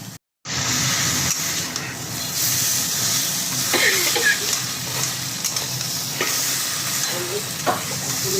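Taro greens frying with a hilsa fish head, stirred steadily in the pan: a constant close sizzle and hiss with scraping stir strokes recurring throughout, no talking.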